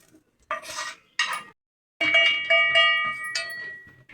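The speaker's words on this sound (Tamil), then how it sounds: "முந்திரி பொரிச்சு அதை எடுத்துப்போம்." Cashews frying in ghee in a pan for rava laddu, stirred with a metal spoon that gives clinking, ringing scrapes against the vessel in short bursts, then a longer run of clanks and scraping, close and fairly loud.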